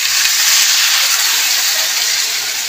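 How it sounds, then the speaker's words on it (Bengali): Water hitting a hot pan of Bengali fish head curry (macher matha kosha) sends up a loud, steady steamy hiss that fills the whole moment, with no voices. "এবার আমি জল দিয়ে দেবো।"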